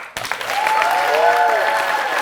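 A crowd at a fan Q&A event erupts into sustained applause that starts abruptly and stays loud and even, with some voices ringing through the dense clapping.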